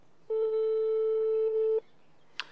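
An outgoing phone call produces a single steady electronic ringback tone, clear and close, lasting about a second and a half before stopping, followed by a brief faint click.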